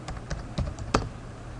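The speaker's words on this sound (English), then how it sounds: "I can revolve that curve by typing in revolve." Four or five separate computer keyboard keystrokes tapping at an uneven pace while typing a Rhino 3D command, close and fairly quiet, with a low steady hum underneath.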